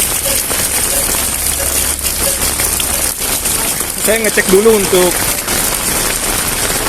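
Rain pours over a Jakarta street near an MRT station, a steady, loud wash of hiss that continues beneath someone talking.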